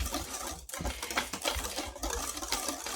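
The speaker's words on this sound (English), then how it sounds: "I'm going to give it a whisk." Whisk beating against a bowl while mixing dry scone ingredients (leavening agent, sugar), a close, steady run of quick scraping, tapping strokes with no talk.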